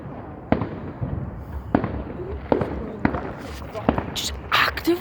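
Bonfire Night fireworks go off as a string of sharp explosive bangs at a moderate distance, with crackling bursts toward the end and people talking in between.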